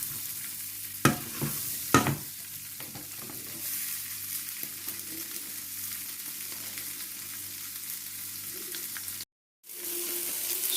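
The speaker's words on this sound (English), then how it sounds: "So I've put some Carlins in a pan with some butter and some black pepper, and nice and hot." Carlin peas fry in a hot pan with butter and black pepper, a steady close sizzle with a couple of sharp stirring knocks early on and a brief pause before the sizzling resumes.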